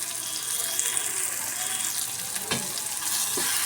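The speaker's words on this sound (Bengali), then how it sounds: "তো মশলাগুলো আমি একটু নেড়ে চেড়ে পেঁয়াজের সঙ্গে ভালো করে মিশিয়ে নেব" Onions frying in a pan as chilli powder, spice blend and turmeric are stirred in, giving a steady broad sizzle with a few soft scraping knocks from the spoon, close and continuous without talk.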